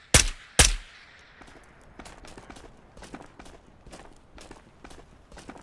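Two sharp, loud single shots from an AR rifle in the video game Ghosts of Tabor crack close by in quick succession, followed by quieter, evenly paced footsteps.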